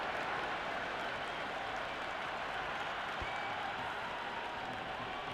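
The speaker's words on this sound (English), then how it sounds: "It's evident and ever so audible that the crowd is at near bursting point at today's play" Stadium crowd roar in the cricket video game Cricket 26 during a CSK vs RCB match, a steady dense wash of cheering and applause that stays loud and constant throughout.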